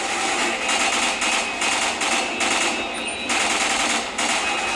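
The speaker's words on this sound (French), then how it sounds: "Je tire au hasard des fois parce que tellement il te tire dessus." Rapid automatic gunfire in the shooter game Quantum of Solace, loud dense bursts of shots rattling in quick succession with brief gaps between volleys, continuing through the whole stretch.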